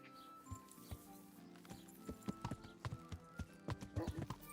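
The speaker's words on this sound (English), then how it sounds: "Pebbles, my sweet ethereal horse" Hooves clip-clop in a steady, fairly close rhythm, a quick run of sharp knocks over a low background hum.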